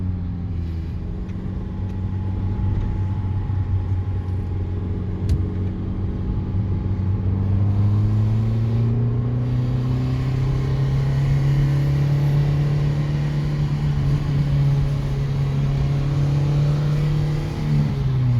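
A Honda CRX engine drones steadily from inside the cabin, its pitch climbing gradually as the car accelerates, with road rumble underneath.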